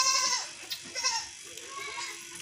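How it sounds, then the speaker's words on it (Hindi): A heavy female Gulabi goat bleats close by in a few short, loud, wavering calls, with faint background noise between them. "और ये बकरी अल्हम्दुलिल्लाह प्योर गुलाबी हैवी बकरी अल्हम्दुलिल्लाह"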